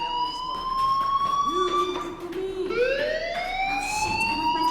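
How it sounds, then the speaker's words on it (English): A fire alarm wails in Life is Strange, loud, continuous and alone, with pitch repeatedly sweeping upward in siren-like rising tones. "Hey, do you hear that fire alarm? That means you should be outside."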